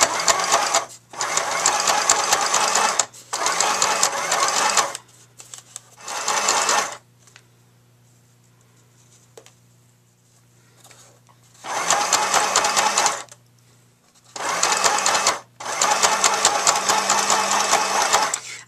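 A sewing machine back-stitches gathered fabric for a Thanksgiving table decoration, running in loud, steady whirring bursts of a second or two with short pauses between them and a longer quiet stretch in the middle.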